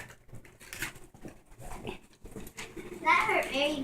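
Foster puppies whimper and yelp during rough play indoors, with scuffling and high squeals growing louder toward the end while a voice is faintly heard.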